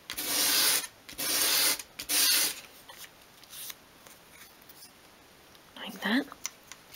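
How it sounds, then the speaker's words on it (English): A small piece is sanded on sandpaper to form a gentle bevel, producing three close, loud rasping strokes in a row, then quieter scattered scrapes and rubs with a brief later stroke. "Just very gently sweep it towards you, and we only want to create a gentle bevel there."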